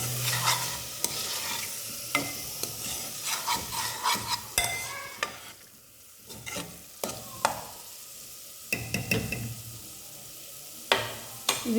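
Tomato pieces being stirred in a frying pan for mushroom biryani, a spoon scraping and clacking against the metal in uneven strokes over a soft sizzle, close and fairly loud, with no talking.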